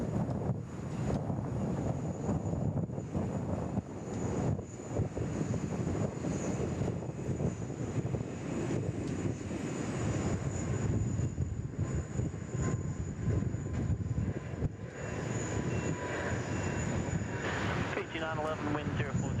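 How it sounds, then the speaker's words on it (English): A China Eastern airliner takes off from Sydney Airport, heard as a broad, continuous jet roar with wind buffeting the microphone. A person talks over it throughout. "China Eastern 562 heading off to Shanghai."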